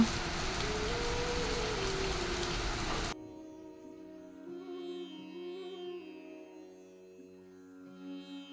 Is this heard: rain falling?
yes